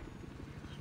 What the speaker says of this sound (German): Ich hab mein Heli.